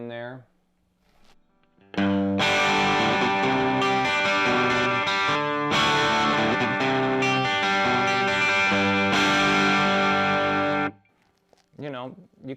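Electric guitar, a Telecaster, through an amp's dirty channel with a touch of reverb: loud, distorted chords strummed for about nine seconds, ringing out between hits, with brief talk before and after.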